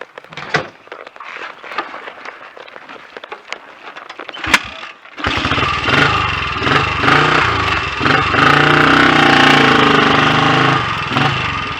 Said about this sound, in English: And that, for those who nag me about blipping the throttle, is why I blip the throttle.